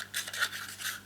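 A paper trimmer blade slides through a sheet of patterned paper for a storage box, giving a short, soft, close rasping cut with no voices.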